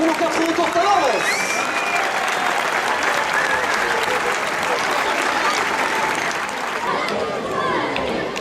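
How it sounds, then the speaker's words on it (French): Thunderous applause fills the Arles arena at a recortadores bullfighting contest, a dense, loud, sustained roar of clapping from a large crowd, with shouts and voices mixed through it. "Un tonnerre d'applaudissements pour nos 4 retours Tavares"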